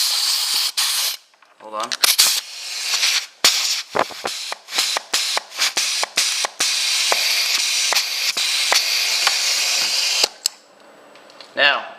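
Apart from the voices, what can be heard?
pneumatic valve switching, air from air compressor hissing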